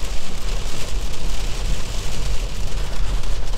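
Heavy rain drums steadily on the body of a moving Kia XCeed 2022 plug-in hybrid with a 1.6 GDI engine, heard from inside the cabin as a dense, continuous wash over a low road rumble, with no voices.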